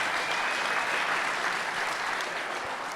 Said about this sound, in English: Just give Fletch and Gemma a big round of applause if you're so kind